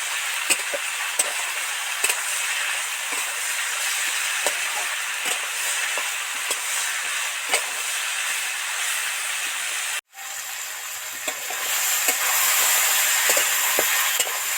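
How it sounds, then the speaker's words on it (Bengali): Diced potatoes frying with snake gourd in a pan of oil, giving a steady close sizzle broken by light scrapes and taps of stirring, a brief drop-out, then a louder hiss. "এবার এই টুকরো করা আলুটা এর মধ্যে উঠিয়ে দেবো পাঁচ মিনিট ধরে ধরে নাড়তে থাকবো"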